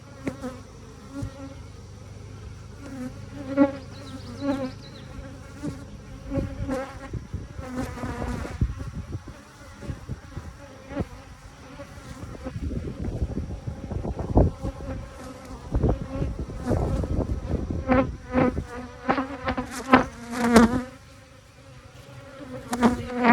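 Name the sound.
honeybees buzzing around the hive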